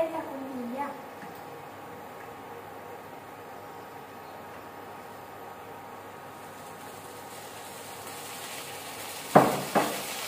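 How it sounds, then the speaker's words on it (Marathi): Cut, washed and dried okra sautéing in oil, a steady soft sizzle that runs throughout, with a brief clatter of a utensil against the pan near the end. "भेंडी आता परतून घ्यायची आहे आपल्याला।"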